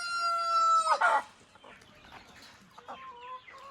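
A rooster crows nearby, a long drawn-out call, followed by a sharp squawk and softer clucking from chickens close by.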